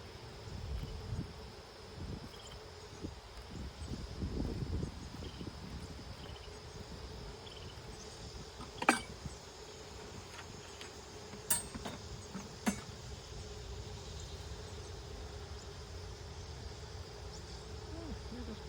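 Honey bees buzz steadily around an open beehive during an outdoor summer hive check, a faint continuous drone with a few sharp knocks and handling clatters over it.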